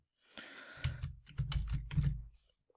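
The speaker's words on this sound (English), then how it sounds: "After typing A plus B and pressing the enter key" Fingers type a short entry on a computer keyboard and press the enter key, giving a quick run of close, distinct key clicks and a few firmer taps, with no voices.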